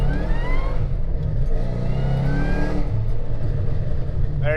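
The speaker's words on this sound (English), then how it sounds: "So another first gear pull." A Ford Mustang GT500 with the Drag Pack accelerates hard in first gear, a loud, close engine roar climbing steeply in pitch before easing off near the end.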